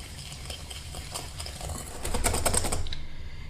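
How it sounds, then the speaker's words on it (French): A whisk beats egg yolks with cane sugar in a bowl, a rapid, continuous scratchy rattle close up that swells louder partway through and then eases slightly. "Et je mélange tout de suite à l'aide d'un fouet."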